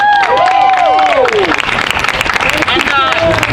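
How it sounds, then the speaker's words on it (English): Crowd applause at a political rally, a steady wash of clapping with cheering voices, starting under a sustained sung or spoken note that fades out after the first second and a half. "Let's get another round of applause for him"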